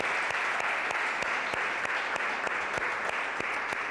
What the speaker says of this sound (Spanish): Ponle un aplauso a Dios